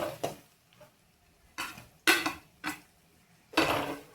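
Bitter gourd fry with onion, tomato and garlic chilli powder being stirred in a pan, giving a few separate, close scraping and clinking strokes of a spatula against the metal with short pauses between them, and no talk.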